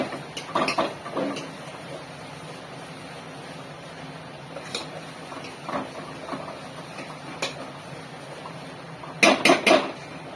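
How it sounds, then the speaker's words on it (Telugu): Chickpeas being stirred in a metal cooking pot: soft scraping under faint background hum, with sharp metallic clanks of the utensil against the pot, a cluster near the start and a louder burst near the end. "శనగలు మిక్స్ చేస్తున్నాం."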